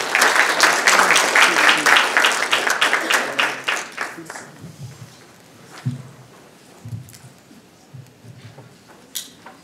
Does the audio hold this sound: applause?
yes